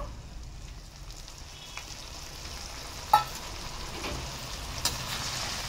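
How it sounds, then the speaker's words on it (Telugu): Lemon juice added to hot oil in a spicy chicken pickle gives a soft, steady sizzle, fairly quiet and continuous, with a couple of brief clicks. "వేడి నూనె కదా, అందుకనేసి లెమన్ జ్యూస్ అనేది మనకు మరుగుతుంది అనమాట."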